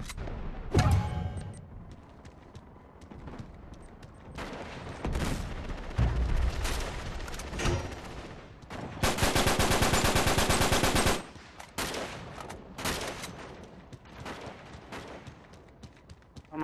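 Enemy blind gunfire in an Uncharted 3 firefight: scattered loud single shots and short bursts, broken by a sustained rapid automatic burst of about two seconds, then more sporadic cracks near and far.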